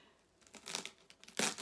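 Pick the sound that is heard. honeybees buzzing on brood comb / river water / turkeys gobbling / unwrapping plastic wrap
unwrapping plastic wrap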